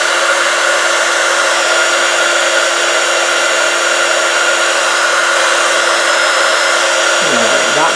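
A hair dryer blows steadily and loudly at close range over a watercolor painting, its airy whir constant and unbroken, with no talking.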